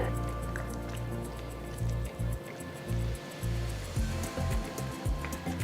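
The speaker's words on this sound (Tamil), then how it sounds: "வறுத்து வச்ச உருளைக்கிழங்கு வெங்காயத்தை முட்டை கலவையில் சேர்த்து கலந்து விட்டு மிக்ஸ் பண்ணுங்க." Fried potato and onion being stirred into a beaten egg mixture in a bowl, producing wet squelching and dripping sounds in uneven strokes over a steady low hum.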